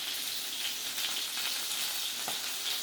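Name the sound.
food sizzling and popping in a pan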